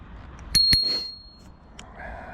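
On a fully loaded touring bicycle, a handlebar bell gives two quick bright dings close by, followed by a long shimmering ring that fades out over quiet background noise.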